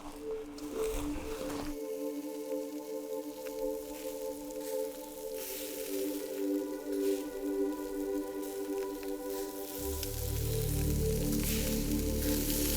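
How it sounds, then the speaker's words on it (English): Meat sizzles over an open fire in an African homeland setting, a steady close hiss and crackle that runs throughout, with a deeper rumble swelling in during the last few seconds. "meat sizzling over the fire"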